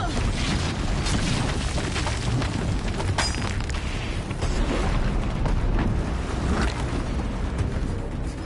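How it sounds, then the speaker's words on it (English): Explosions roll through a Horizon Zero Dawn battle, with deep booming rumble and scattered bursts filling the scene continuously. "An explosion."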